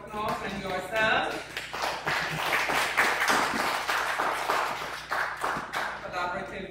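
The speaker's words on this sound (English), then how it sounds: "Let's give them another round of applause and yourself." A church harvest festival audience applauds, a steady wash of clapping that carries through the whole stretch with a voice speaking over it.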